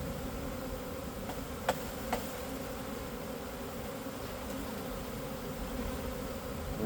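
Honey bees hum faintly at a hive entrance in a continuous, low, even drone, with a couple of small clicks near the start.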